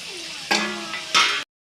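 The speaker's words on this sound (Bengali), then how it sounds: "এখন আমি এতে পটলগুলো ঢেলে দিব" Pointed gourd tipped into a hot pan of spices sizzles in two loud bursts over a steady frying hiss, close and brief, ending in sudden silence.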